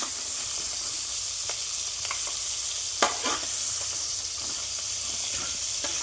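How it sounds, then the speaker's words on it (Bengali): Prawns fry in oil with a steady sizzle and crackle, occasional sharper pops and clinks, constant hiss throughout, close by. "এই যে বন্ধুরা দেখো এগুলো ফ্রাই হচ্ছে এখন"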